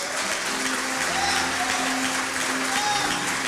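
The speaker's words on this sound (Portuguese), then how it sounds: "Dê um aplauso para Jesus." A church congregation applauding together, a dense and steady wash of clapping that holds at an even level from start to finish, with faint sustained tones underneath.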